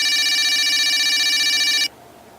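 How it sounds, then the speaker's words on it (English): A red toy tin can telephone rings with a bright, continuous electronic trill, loud and steady for nearly two seconds before cutting off abruptly into quiet. "Suddenly, the red tin can phone started to ring."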